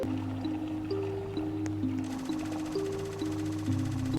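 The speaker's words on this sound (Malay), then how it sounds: "Water leak." In a scary motel horror game, water leaks in the bathroom with a soft, wet, dripping trickle under a looping game music bed of steady low tones.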